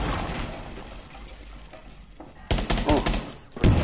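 Gunfire in a PS4 shooter game breaks out in sharp, loud bursts near the end, rapid cracks following a quieter stretch of muffled background noise, with people talking at times.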